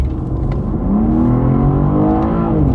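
A 2024 BMW M2 pulls hard from a rolling start, its engine note climbing steadily and loud from inside the cabin, with no talking over it.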